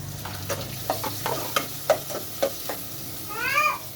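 Onion and tomato sautéing in a pan for a fish soup, a steady sizzle broken by a series of sharp stirring scrapes and clinks, with a bubbling, warbling hiss building toward the end.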